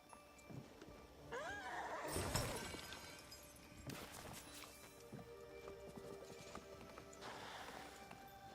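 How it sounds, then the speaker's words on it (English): Horse hooves clip-clop in the video game Disney Dreamlight Valley, a run of quick hoofbeats with a brief whinny over a soft in-game background. "Oh wait, we're gonna need a horse."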